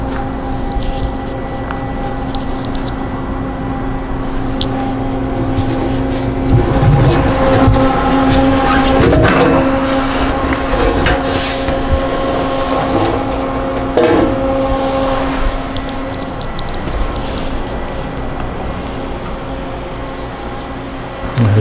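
An Omniturn CNC lathe with an upgraded control runs through its cycle, a steady mechanical hum with whining tonal drones from the spindle and servos, punctuated by occasional clunks and clicks, loud and close.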